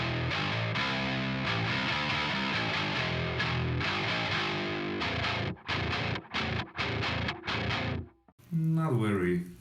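Bass guitar run through a Diesel guitar amp simulation, heavily distorted with a fizzy high end, played as sustained riffing then choppy staccato stabs with short gaps, ending in a brief sliding noisy flourish.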